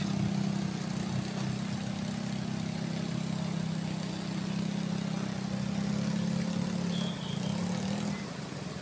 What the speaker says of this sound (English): Rev that bike, that's it, keep it revving.